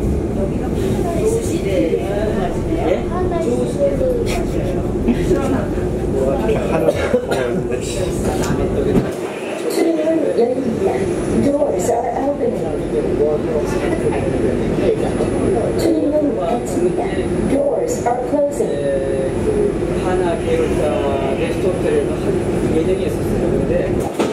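Inside the Incheon Airport maglev train running toward Yongyu, a steady, loud rumble continues with a brief dip partway through, while passengers talk throughout.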